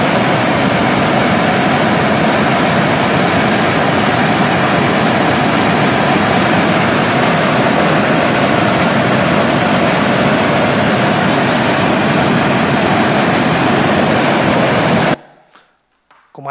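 Rushing floodwater pours through a ravine in a continuous loud broadband roar lasting about fifteen seconds, then cuts off abruptly to near silence.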